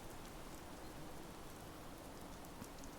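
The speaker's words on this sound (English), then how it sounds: "So, Quantum Storm with added rain." Rain from a Quantum Storm weather effect in the video game Fallout 76, a soft, steady hiss of falling drops with no breaks, faint and even throughout.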